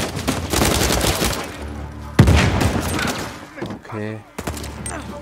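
Rapid bursts of gunfire from a companion in an Uncharted 4 firefight, loud and close with a heavy boom midway, then a brief pause where someone speaks before the shooting resumes.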